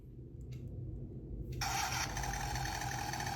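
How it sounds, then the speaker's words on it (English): A battery-powered engine sound generator in a Type 97 WWII radio-controlled toy tank switches on after a faint click, then holds a steady, buzzy synthetic engine drone with no talk. "now it's generating its sound, the engine sound"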